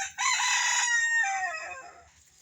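A jungle fowl rooster lets out a single loud, close crow that rises sharply, holds, then trails off gradually over about two seconds.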